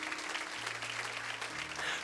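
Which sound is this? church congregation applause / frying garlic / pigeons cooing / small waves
church congregation applause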